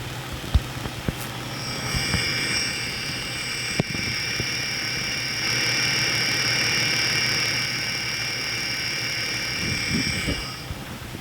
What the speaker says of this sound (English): Facing forward, this is the power steering pump housing.